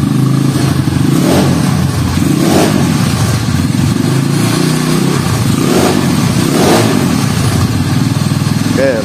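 A Honda CB motorcycle engine revs up repeatedly in a steady rhythm of throttle blips, loud and close, over a continuous idling rumble.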